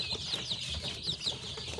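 Sick chicks with diarrhoea peep faintly in a home setting, thin high repeated cheeps over a low background murmur.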